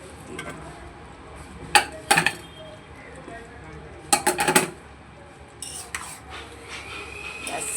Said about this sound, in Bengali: আলুটাকে দিয়ে এবার ভালো করে নেড়ে